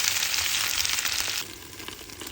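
Potatoes frying in oil in a pan sizzle loudly and steadily up close, then the hiss drops to a quieter crackle as a lid goes on.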